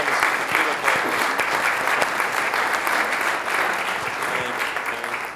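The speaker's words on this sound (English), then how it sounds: "How about a round of applause for Oklahoma City Beautiful?" Sustained applause fills a city council meeting in Oklahoma City, a dense, steady wash of many hands clapping at close range for about five seconds, with no voices standing out.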